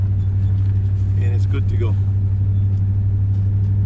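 Pickup truck in four-wheel drive on a trail, tires aired down to 40 pounds: a loud, steady low engine drone heard from inside the cab, with someone talking briefly over it.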